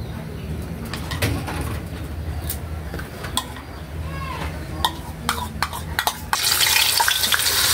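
Egg gets stirred into ground meat and eggplant in a pan for tortang talong, with scraping and clacking utensil taps over a soft sizzle, and a voice talking throughout.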